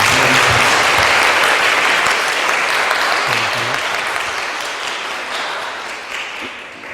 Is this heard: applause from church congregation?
yes